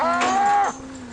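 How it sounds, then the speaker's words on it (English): A dairy cow on a farm with a newborn calf in the herd gives one clear, drawn-out moo close by, fading into quiet farmyard background. "Other cows always seem to show a strong interest in the new calf."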